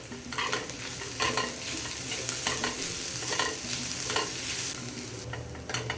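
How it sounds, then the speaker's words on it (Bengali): Chopped onion with grated ginger, garlic and chopped green chili frying in oil while being stirred: a steady sizzle with repeated scraping stirs of a spoon against the pan, close and alone. "এরপর আমি দিয়ে দেব আদা, রসুন আর কাঁচা লঙ্কা কুচি"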